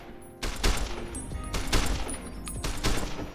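Gunfire at a shooting range in Fallout New Vegas: several sharp volleys of shots in quick bursts, fairly close and loud, with no voices over them.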